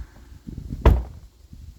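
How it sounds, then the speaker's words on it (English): A Jaguar X-Type car door shuts with a single solid thump, close by, midway through an otherwise quiet moment with light background rustle. "Let's shut the old door up."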